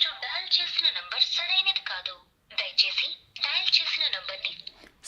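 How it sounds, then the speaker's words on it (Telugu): A calling tone played through the small speaker of a Noise Colorfit Pro 4 smartwatch, a bright, tinny repeating ringback pattern in three bursts separated by short silences. "ఏదో రాంగ్ నెంబర్ డయల్ చేసి మీకు చూపిస్తాను."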